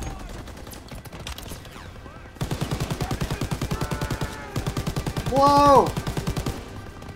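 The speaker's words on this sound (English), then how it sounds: "let me use this turret" Mounted turret machine gun in Call of Duty WWII firing long rapid bursts up close, a steady chattering rhythm with brief pauses, while a man exclaims over it.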